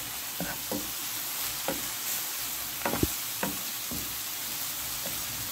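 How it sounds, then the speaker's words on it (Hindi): Spiced chicken wonton filling with red chili, curry powder and salt fries in a pan with a constant, even sizzle. Occasional scraping and knocking of a stirring spoon breaks through, one louder clack near the middle. "5 मिनट तक हम इसको फ्राई करेंगे।"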